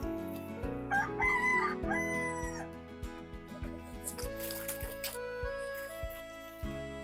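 A native Bisaya rooster crows in long drawn-out calls amid steady background noise, with other faint farmyard sounds.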